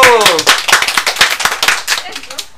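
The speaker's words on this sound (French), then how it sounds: "bon bah ça s'applaudit" Applause in a radio studio during a September 2020 broadcast: a small group claps in brisk, uneven bursts close to the microphone, with voices talking over the clapping.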